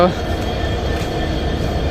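A commuter train pulls out of Rajshahi railway station, a steady close rumble of wheels and carriages rolling throughout the short moment, no voices.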